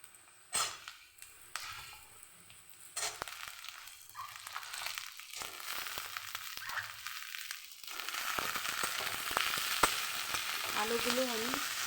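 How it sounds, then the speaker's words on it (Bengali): Potatoes fry lightly in a pan, going in after onions for a bottle gourd and poppy seed dish. A soft sizzle with occasional stirring clinks builds into a steady, louder hiss in the second half; no one speaks. "আলুগুলো আমি হালকা ভেজে নেব।"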